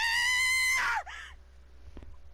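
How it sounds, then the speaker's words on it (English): A single long, high scream rings out in the Raging Loop video game, sustained then breaking off sharply, followed by a faint trailing cry and quiet. "Another scream."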